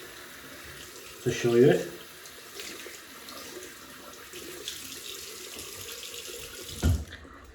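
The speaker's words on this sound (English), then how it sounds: "I'll just rinse it a little bit" A water tap runs steadily while a 26mm two-band mixed-knot Borum badger shaving brush is rinsed under it, with a brief louder splash early on; a person talks over the flow.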